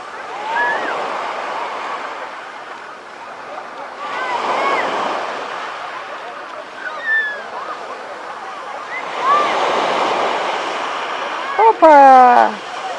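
Sea waves break on a beach at Tuapse in repeated surges a few seconds apart, with wind rushing over the microphone and a brief squeak near the end.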